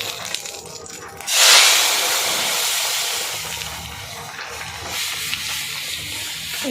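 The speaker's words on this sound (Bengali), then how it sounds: "এবার আমি ডালটা ঢেলে দেব, ফোড়নটা আমার হয়ে গেছে।" Lentils are poured into a hot mustard-oil tempering of dried chilli, whole cumin and bay leaf, setting off a sudden loud hiss that settles into a softer, steady sizzle.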